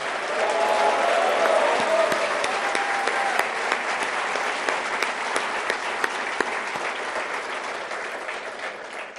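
A large crowd at a political speech applauds a candidate, thick sustained clapping that stays loud for about nine seconds and tapers slightly, with a brief cheer or voice rising early on.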